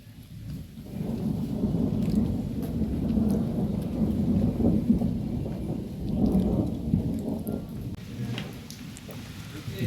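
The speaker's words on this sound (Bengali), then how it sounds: "আরে বাপরে, কি মেঘ ডাকছে!" Thunder rolls in long, low rumbles through a steady rain shower, fairly distant and moderately quiet, swelling and fading over several seconds.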